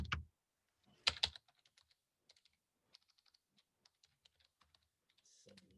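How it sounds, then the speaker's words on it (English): Computer keyboard typing, a series of light separate keystrokes in an irregular rhythm, quiet and close, with a couple of louder bumps near the start and a brief voice at the end. "let me just type the name of the company as Potential"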